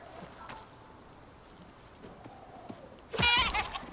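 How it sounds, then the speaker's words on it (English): A goat bleats in a video game, one loud wavering bleat near the end after a few seconds of quiet ambient woodland sound. "I just got like a goat or something."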